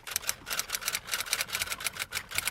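Fast typing on a computer keyboard: a steady run of quick, close clicks and taps with a near, even rhythm and no voices.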